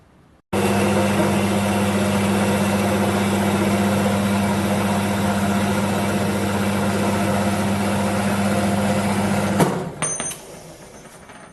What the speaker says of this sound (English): so we're parting this off. I'm using the world's cheapest parting off blade holder.